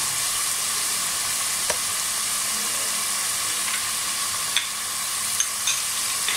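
Onions with ginger garlic paste frying in a pan for a beef korma, giving a steady close sizzle throughout with a few brief clicks of stirring and no talking.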